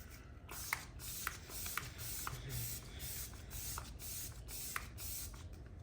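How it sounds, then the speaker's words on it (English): Repeated bursts of fine makeup setting spray misting close by, several short hisses in an uneven rhythm with soft handling noise between them. "I'm also going to go in with my first round of setting spray."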